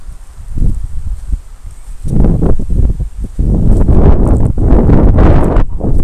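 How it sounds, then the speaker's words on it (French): Steady outdoor wind noise buffeting the microphone, gusting louder in the second half with rustling and low rumbling. "il y a du vent, vous devez sûrement l'entendre"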